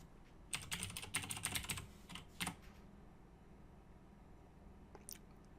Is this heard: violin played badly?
no